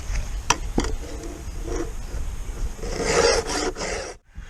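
Steel hand file rasping across a damaged Sachs-Dolmar 114 chainsaw cutter tooth, close and moderately loud, with a few sharp strokes early on and a longer, denser stretch of filing near the end.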